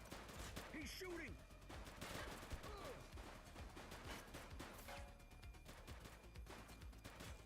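Bursts of gunfire crackle in the police shooter game The Precinct, faint and continuous under the game's combat sounds and shouted voices.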